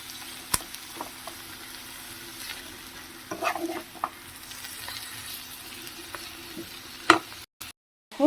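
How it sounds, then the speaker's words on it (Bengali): Yardlong beans with coconut frying in a pan, a soft steady sizzle under scattered spatula knocks and stirring clatter, with a short louder clang toward the end. "এবার এটা ভালো করে মিশিয়ে নিয়ে আরও পাঁচ মিনিট মতো আমি ফ্রাই করে নেব"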